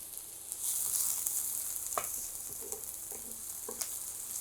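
About two chopped onions fry in a little oil in a pan, giving a soft, hissing sizzle with a few quiet knocks and scrapes of stirring.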